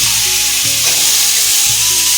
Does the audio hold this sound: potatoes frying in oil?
yes